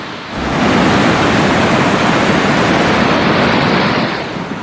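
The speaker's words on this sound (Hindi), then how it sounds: "ये जो नदी है वो उस कोने में है, ये लक्ष्मण नदी है" The Lakshman river rushes through a Himalayan valley near Govindghat, a loud, dense, continuous roar of fast-flowing water that swells in and holds steady throughout.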